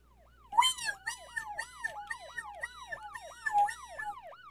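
A wailing fire truck siren cycles rapidly up and down in a repeating yelp pattern, clear and fairly close, with no voices over it.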